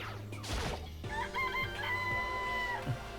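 Game chickens in Danganronpa cluck and crow in a run of rising, warbling calls, close and clear over constant background music, with no voices.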